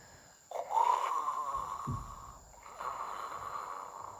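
A man snores in a children's storybook narration, with two long, wheezy, rasping snore breaths, fairly loud and close, with no talk over them.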